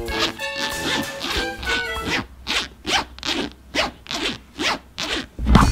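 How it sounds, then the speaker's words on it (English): A zipper on a homemade craft is zipped back and forth in a quick rhythmic series of about eight close, crisp rasps, after some rustling and handling at the start. "We have to do the zip test."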